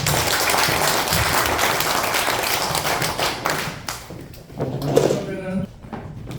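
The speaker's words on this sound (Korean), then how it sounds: "네, 다 같이 박수로." Audience at a commemoration ceremony in a hall breaks into loud group applause that tapers off after a few seconds, followed by scattered knocks and a voice speaking near the microphone.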